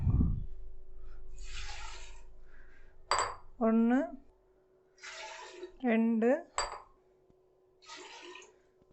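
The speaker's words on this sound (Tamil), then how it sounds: "அதனால் அந்த அளவுலேயே நம்ம தண்ணியை சேர்த்துக்கிறோம்" Water splashes into a pot for making pongal in several short pours, with light metallic clinks, while a person talks between the pours.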